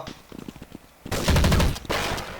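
Rapid automatic gunfire in the video game Counter-Strike 1.6 crackles in loud bursts, following lighter scattered shots and clicks, the rattling volleys dense and close.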